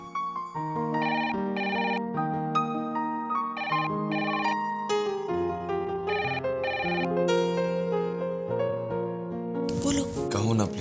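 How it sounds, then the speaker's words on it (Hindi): A phone ringtone plays as a repeating melodic electronic tone sequence, steady and fairly loud, in an indoor domestic scene from a Hindi TV serial, with a brief noisy burst at the end. "अरे किसका फोन है परी?"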